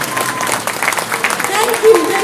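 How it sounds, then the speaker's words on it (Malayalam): An audience applauds a child, a dense, steady patter of many hands clapping close by for about two seconds, with a slight swell near the end. "പ്ലീസ് എല്ലാവരും ഒന്ന് എഴുന്നേറ്റ് നിന്ന് ഇവരൊന്ന് അപ്രിസിയേറ്റ് ചെയ്ത് കൈയടിക്കണമെന്ന് വിനീതമായി അഭ്യർത്ഥിക്കുകയാണ്"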